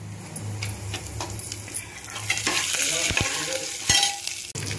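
Curry leaves crackle in a hot oil tempering for fasting upma, a busy sizzle that swells midway, with a spoon scraping and clinking against the pan a few times, close and moderately loud.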